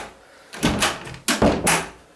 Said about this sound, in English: Let's close this door and see what happens.